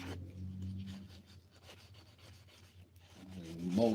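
Soft, repeated scraping strokes of abrasive rubbing on wood, fairly close, with a low hum underneath and a brief squeak at the end.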